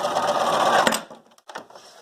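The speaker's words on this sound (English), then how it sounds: "I'm sewing right in between" A sewing machine runs in a steady buzzing burst as it stitches in the ditch along the seam of a fabric social comfort face mask, then stops, leaving a few faint clicks and handling noises.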